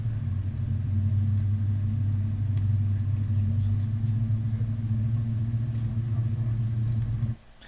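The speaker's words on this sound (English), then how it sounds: "you get the humming of the car" From the back seat of a moving car, a steady low engine and road hum drones loudly and evenly, then drops away abruptly near the end.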